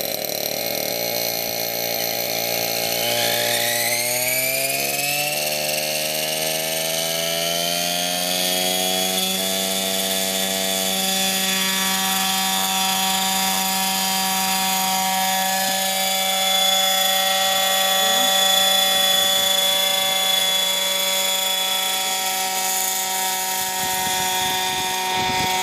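A Whiplash RC helicopter spools up, its motor whine rising steadily in pitch over the first ten seconds, then holding a loud, close, constant high drone with sharp tonal harmonics.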